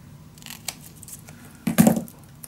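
Scissors cut through score tape while a paper mini album is being made: one short, close snip-and-tear burst that stands out against a quiet room.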